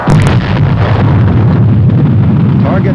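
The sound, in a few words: Nike Hercules missile launch at a test site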